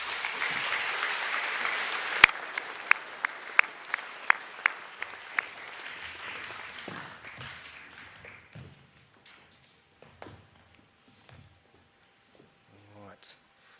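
An audience at a school academic assembly claps loudly, then the applause gradually thins and fades away, leaving quieter room sounds and faint voices near the end.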